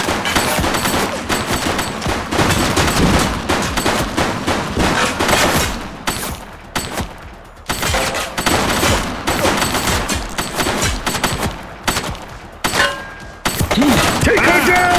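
A suspect fires on police in the video game The Precinct, sustained loud bursts of rapid shots in dense volleys, broken by a few short gaps, with voices mixed in.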